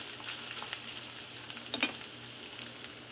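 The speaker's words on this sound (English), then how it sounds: "brown the meat. Once your beef is browned, smelling good," Ground beef browning in a pan, a quiet even sizzle and crackle close by with a brief louder pop midway, no talking.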